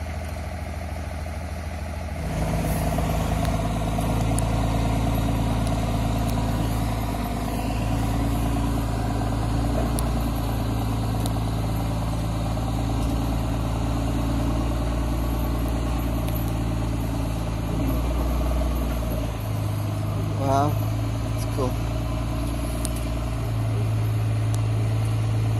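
A boat engine with a big propeller idles near Port Alberni, a steady low rumble that starts after a brief quiet moment and holds evenly to the end, with no voices over it.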